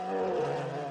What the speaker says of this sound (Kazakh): қоңыр аюдың дыбысы.